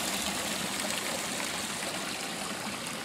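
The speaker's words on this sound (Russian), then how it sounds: "откуда вытекает этот ручеек и водопад" A spring-fed brook and travertine waterfall in a Russian forest near Stavropol rush steadily and loudly, a continuous close wash of flowing water with no voices.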